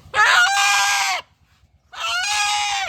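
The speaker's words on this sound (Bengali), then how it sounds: "এটা কিন্তু প্রপার দেশি মুরগিতে থাকবে।" Desi chickens and a rooster, with two loud, close crows separated by a brief pause, and soft clucking faintly underneath.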